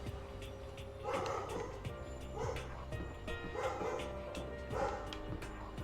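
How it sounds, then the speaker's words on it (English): A dog barks in a steady rhythm of four separate yaps spaced about a second apart. It sounds moderately near, over a low background hum, with no one talking. "I'm probably gonna hear some dog barking too"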